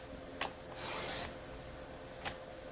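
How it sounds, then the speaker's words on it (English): White cardstock trimmed on a paper trimmer, a soft sliding rasp of the blade lasting about half a second, framed by two brief clicks, quiet and close. "I'm just going to conservatively trim this white bit off"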